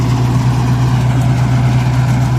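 A Mahindra Novo 655 DI tractor engine runs steadily around 1500 rpm, a loud, close diesel drone with an even low throb and no change in pitch.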